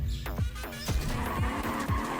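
Car tires skid and squeal repeatedly in a racing game trailer for The Crew Motorfest, several sharp screeches over a roaring engine bed, loud and close with no talk.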